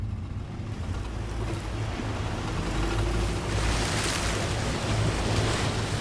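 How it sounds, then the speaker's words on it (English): A vehicle fording a fast-flowing river about two and a half feet deep produces a constant loud rush and churn of water mixed with wind noise, without any voices. "We get into the middle of this fast-flowing stream at 2'6" of water"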